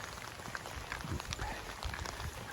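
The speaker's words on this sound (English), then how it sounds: "it's fairly raining now. More than just a few spots." Steady rain falling outdoors near a golf course on the Camino Francés in Spain, a continuous soft patter of drops with no distinct single impacts, fairly close and even in level throughout.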